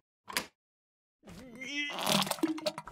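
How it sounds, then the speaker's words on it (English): A cartoon sound effect of someone defecating: a short, sharp crack, a brief pause, then a longer wet, squelching and sputtering stretch with squeaky, rising tones that breaks into several splattery bursts. "That was a very realistic sound of shit."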